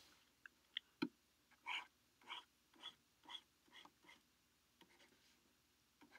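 A pen sketches a quick graph on paper, producing a series of soft, separate scratching strokes at an even pace, each stroke short and close, with a sharper tap near the start and light ticks near the end.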